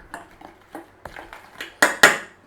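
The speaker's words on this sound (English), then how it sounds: "Just give that a mix in." Flour and salt being mixed in a bowl with a utensil, giving a series of light clinks and taps that build to two louder sharp knocks near the end.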